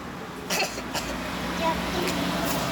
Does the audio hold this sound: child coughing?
yes